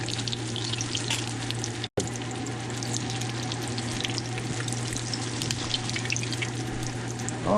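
A fish cake made with walleye sizzles and crackles in hot oil in a pan, a steady, dense frying hiss with a low hum underneath and one brief dropout, close and continuous.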